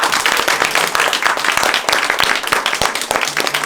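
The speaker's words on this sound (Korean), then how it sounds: "다시 한번 따뜻한 박수 부탁드립니다." A small village concert audience claps after a piano performance, a loose, uneven patter of individual hands, fairly close and lively, continuing for several seconds without voices.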